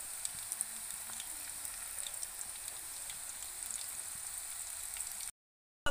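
A snack sizzles in hot groundnut oil, giving a steady, close crackle with fine popping bubbles throughout, then it cuts to silence near the end.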